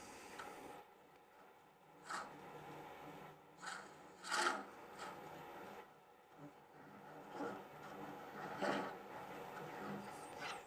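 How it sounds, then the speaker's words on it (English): A woodturning tool cutting wood on a lathe, giving irregular rasping scrapes and bursts over a steady low machine hum, close and moderately loud. "So what you do is you can rotate the tool to give some edge, to be able to, that edge will cut."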